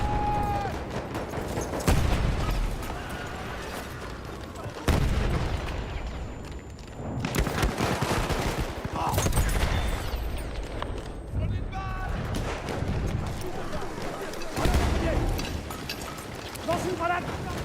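Gunfire and explosions from the video game Battlefield 1. Bursts and booms come in loud, repeated waves with brief lulls between them.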